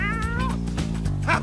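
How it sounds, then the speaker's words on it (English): A cartoon cat from the game Legend of Kyrandia Book Three: Malcolm's Revenge yowls as its tail is pulled, a loud, close, wavering screech ending in a sharp rising cry. "Don't pull that kitty's tail."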